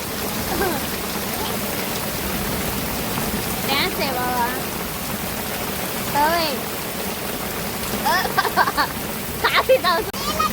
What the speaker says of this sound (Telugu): వర్షం ఎక్కువ అయిపోతుంది